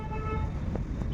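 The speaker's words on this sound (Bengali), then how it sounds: "বাঁশির আওয়াজ শোনা যায়" A short toot sounds from the street outside, a faint horn or whistle blast over a low steady traffic hum, distant and brief.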